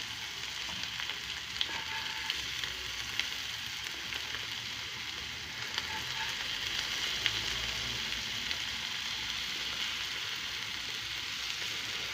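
Oyster mushrooms and young potatoes frying in a pan, a steady soft sizzle with occasional light scraping clicks as they are gently stirred, close and continuous with no talking.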